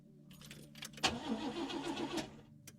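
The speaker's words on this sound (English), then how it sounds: "The car won't start." A video game car engine cranks with a key click and rough churning, sputtering for a couple of seconds without catching, then stops.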